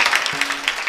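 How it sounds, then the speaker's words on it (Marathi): An audience at a devotional kirtan gathering claps for the musicians in a brief burst of lively applause, with a short low tone partway through. "जोरदार टाळ्या वाजवा त्यांच्यासाठी"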